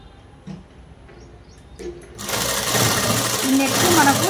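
Sewing machine stitching round the lining of a dress, starting after a quiet stretch with light handling noises and then running steadily and fairly loud to the end.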